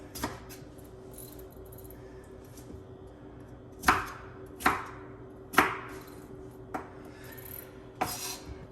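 A knife chopping a tomato into cubes on a board, heard as a few sparse early taps and then five or six distinct sharp chops at an uneven pace, close and fairly quiet with a steady low hum underneath.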